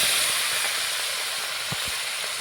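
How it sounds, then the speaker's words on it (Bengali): Small fish being poured into a hot oiled wok, giving a loud, steady close hiss of sizzling oil with a few faint low knocks, no voices. "এবার মাছগুলো আমি ঢেলে দেব,"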